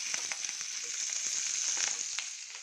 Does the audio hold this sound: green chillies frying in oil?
yes